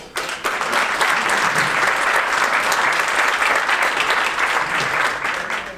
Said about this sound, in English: But first of all, a round of applause.